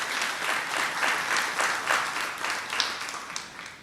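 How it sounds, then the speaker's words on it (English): Steady applause from the audience at an awards ceremony, a dense, even wash of many hands clapping, moderately distant and alone with no talk over it. "a round of applause, ladies and gentlemen"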